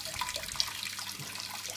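Water running steadily into a brewing pot for a brew-in-a-bag mash, filling it to about 23 litres, a constant close hiss and splash with no talk.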